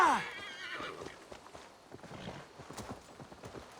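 A horse whinnies loudly at the start in the video game Assassin's Creed Valhalla, then hooves clip-clop steadily at close range for a few seconds.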